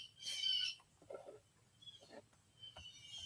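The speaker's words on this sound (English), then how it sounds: "Please pardon the birds." Wild birds calling outdoors in Georgia, a few short chirps and trills scattered over a quiet background, with one louder burst of calls near the start and fainter calls later.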